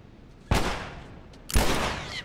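Two sharp, loud gunshots in The Last of Us, about a second apart, each cracking suddenly and trailing off in a short echoing decay.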